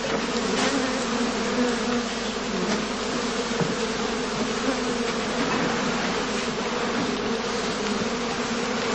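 Dense, steady buzzing of honey bees swarming around straw skeps stacked on their sides in a heathland skep apiary during heather blossom, a continuous loud drone filling the air with no talking.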